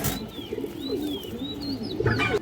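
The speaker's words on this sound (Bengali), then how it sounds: "মাদিটা ইন্ডিয়ান ফ্লাই কালদম মাদি" A large female Indian fly kaldom pigeon coos in a soft, repeated rolling rhythm, close and fairly quiet, with faint chirps from other birds in the background and no talking.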